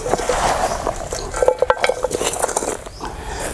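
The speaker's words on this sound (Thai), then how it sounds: "ตักดินใส่ในกล่องโฟม" A mix of soil and chopped coconut husk is scooped into a foam box, giving close scraping and scooping sounds with a run of quick knocks and rustles in the middle, fairly loud and without speech.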